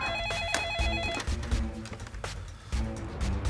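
A telephone rings out on an outgoing call, its warbling electronic ring tone repeating in short bursts over muffled room and street noise, with no voices.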